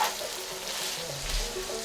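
Onions frying in a pan for a simple American-style goulash, a soft continuous sizzle with faint low bubbling, close and quiet, no talking.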